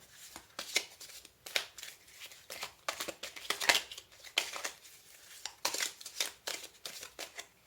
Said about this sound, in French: On va tirer une dernière carte.